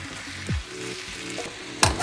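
Ground beef with cumin and paprika sizzles steadily in a frying pan as a utensil stirs it, giving soft scraping sweeps and a sharper clatter near the end over the constant frying hiss.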